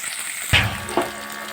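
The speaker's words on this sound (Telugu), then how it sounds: "కొద్దిగా వేయించుకోవాలి" Garlic and mint hitting hot oil in a pan, a sudden sizzling splash followed by a second smaller one, over a continuous hiss of frying.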